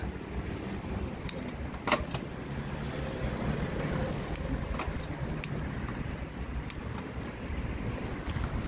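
A car engine runs while the gears are shifted up and down: a steady, close low rumble with wind buffeting the microphone and a few sharp clicks.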